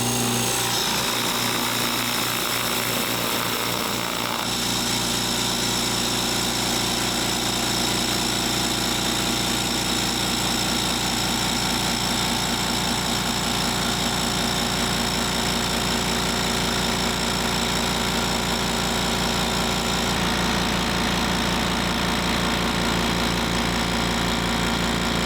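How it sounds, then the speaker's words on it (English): A Harbor Freight 2 gallon air compressor starts up and runs continuously with a loud, close, rapid chugging drone that holds steady for over twenty seconds. "we're going to start with the 2 gallon compressor. I'm going to fire it up"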